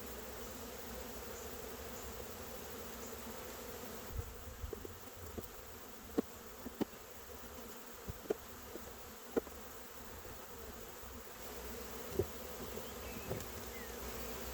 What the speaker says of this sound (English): Those bees that I've shaken off up the bank over here, they're flying down and they're trying to find their home